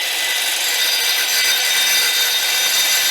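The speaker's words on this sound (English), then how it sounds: "So I went and got a 7-inch masonry blade to fit my skill saw." Skill saw fitted with a 7-inch masonry blade cutting through drainage rock for a raised flower bed, a loud, steady, high-pitched grinding whine held close and continuous throughout.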